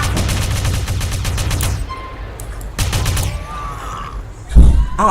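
Rapid bursts of video game gunfire in GTA, a loud sustained volley followed by a pause, then another short burst and a heavy thump, mixed with game sound effects.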